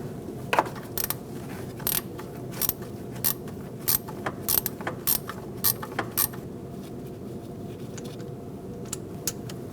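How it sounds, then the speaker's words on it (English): A ratchet wrench loosens the camshaft position sensor bolt on a 2004–2012 Chevrolet Colorado 3.7L engine, with a rapid run of close metallic clicks in short bursts over a low background hum. "I'm going to use my ratchet wrench."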